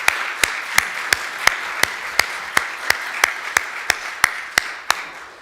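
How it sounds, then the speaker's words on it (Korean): Hands clap in a slow, steady rhythm during a Sunday church service, each sharp clap evenly spaced and fairly close, with no voices. "우리 수고하신 분들 박수 한번 부탁드립니다."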